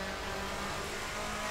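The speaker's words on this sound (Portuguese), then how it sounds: "E o barulho desses Alfa Romeos..." An Alfa Romeo DTM touring race car from the 1990s, driven in the Assetto Corsa racing game, gives a steady, dense engine roar that holds at a constant level, fairly quiet and unbroken.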